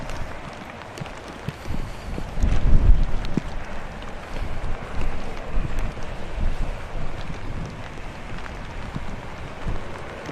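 Strong wind gusts buffet the microphone outdoors at Manchester Airport in wet weather, a loud continuous roar with surging rumbles and what sounds like rain.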